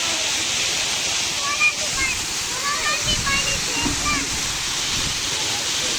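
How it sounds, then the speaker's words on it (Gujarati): A mountain waterfall near Saputara pours down in a steady, loud broadband rush of falling water, with voices talking over it. "કેવો પહાડ ઉપરથી મસ્ત ધોધ પડે છે."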